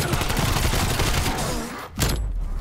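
Rifle gunfire in Call of Duty Zombies, a dense, rapid burst of shots roaring steadily for almost two seconds, a brief pause, then firing resumes, loud and close.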